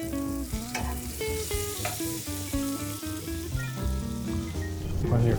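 Breaded country-style pieces sizzle steadily in a frying pan as they turn golden brown, with music playing over the continuous crackle.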